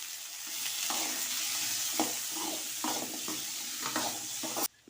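Chopped onions sautéing in oil with cumin seeds and black pepper in a kadai, a steady close sizzle broken by stirring scrapes at regular intervals, with no voices.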